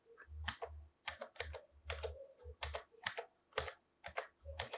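Computer keyboard keys typed in quick irregular bursts while entering text in the Tux Paint drawing program, the clicks close and clear with short pauses between runs of keystrokes, no talking.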